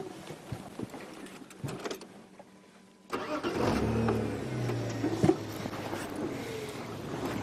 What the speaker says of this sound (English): when I start the car you'll be deaf